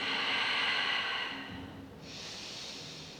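Deep yoga breaths, a long audible exhale through the nose followed by a slow breath, close and unhurried.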